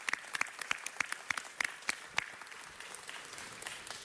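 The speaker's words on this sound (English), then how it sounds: "let's give her a round of applause." Scattered, thin applause from a small audience at a city council meeting, a handful of distinct sharp claps standing out over softer clapping, fairly quiet and tapering off toward the end.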